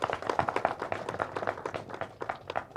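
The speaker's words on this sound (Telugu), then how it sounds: "ఒకసారి గట్టిగా చప్పట్లు కొట్టాలి" An audience claps at the teaser launch event for the film Psycho, a dense run of overlapping hand claps with an uneven rhythm, held at moderate loudness for a few seconds with no voices over it.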